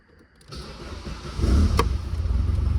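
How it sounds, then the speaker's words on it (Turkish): An Opel Calibra engine, rested for a day, cranks with a starter whine and catches, settling into a loud, steady low idle with no throttle applied. "Şimdi bir gün bekledikten sonra marşına basalım."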